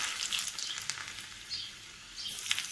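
Garlic cloves sizzle in hot oil as a tempering for a Telugu greens dish, a steady crackling fry with a few sharper pops, fairly faint and with no voices over it.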